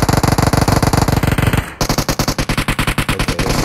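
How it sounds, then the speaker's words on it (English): Automatic gunfire in the mobile battle royale game PUBG Mobile, loud rapid bursts of shots close by, pausing briefly before another fast burst continues to the end. "Okay, they're shooting at each other."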